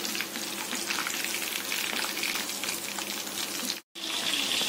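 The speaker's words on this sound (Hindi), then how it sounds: "बाकी का चिकन भी हम ऐसे फ्राई कर लेंगे" Chicken pieces for a crispy Jama Masjid–style fry crackle in hot oil with a dense, even hiss that runs nearly without pause, cutting out briefly near the end, close and moderately loud with no voices.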